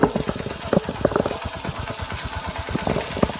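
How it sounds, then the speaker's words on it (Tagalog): A motorcycle engine idles nearby after being started with a homemade remote built from a toy car controller, giving a steady, uneven chugging rhythm with light mechanical clatter. "Ayan yung motor natin."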